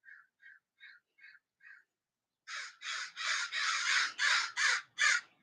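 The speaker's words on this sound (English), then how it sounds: "You hear the birds outside, can't you?" Five soft, evenly spaced calls, a pause, then a run of loud, harsh caws in quick succession, like crows calling nearby.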